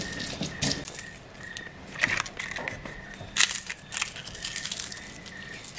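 Dried chiles, crunchy and crisp, ground dry in a Mexican kitchen with a little onion and garlic juice, giving repeated gritty crushing and crackling bursts at close range, steady and uneven throughout.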